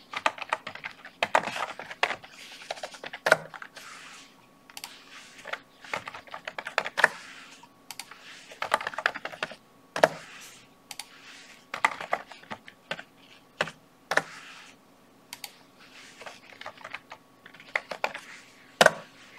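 Computer keyboard keys tapped in irregular bursts of clicks, as names are entered, with short pauses between words; close and moderately loud, no voices.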